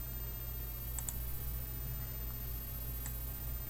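A few faint, crisp computer mouse clicks, a quick double click and then a lone click later, sit over a steady hum in a quiet room.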